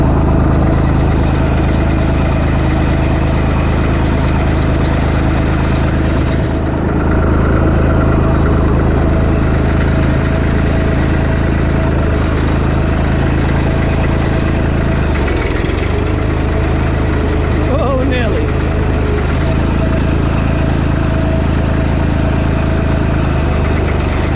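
A 1960 Massey Ferguson MF35 diesel tractor engine runs loud and close at a steady, rough idle with a constant low rumble and slight rhythmic unevenness throughout.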